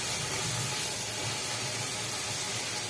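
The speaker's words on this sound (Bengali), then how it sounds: "ঢাকা চাপা দিয়ে আলুগুলোকে একটু লাল লাল করে ভেজে নিলাম।" Steady hiss and sizzle of potatoes frying in oil in a covered pan, constant and even throughout with no talking.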